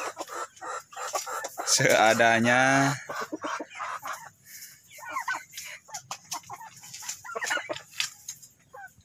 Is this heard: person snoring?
no